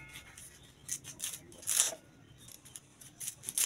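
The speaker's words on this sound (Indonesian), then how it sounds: "Pertama kita iris-iris dulu ya daun pandannya biar enggak keras." Crisp scissor snips and rustling cuts through pandan leaves, a series of irregular sharp clips close up, fairly quiet with no talking.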